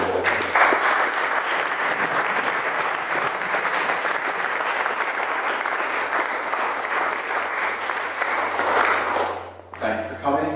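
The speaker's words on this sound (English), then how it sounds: "if we could give all of them a round of applause" Applause from a hustings meeting audience, a sustained, fairly loud roar of many clapping hands for about nine seconds that cuts off abruptly, followed by a voice speaking.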